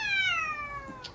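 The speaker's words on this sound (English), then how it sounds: "One last meow" A single long, clear cat meow with a falling pitch, close and loud, ending with a faint rustle, no talking over it.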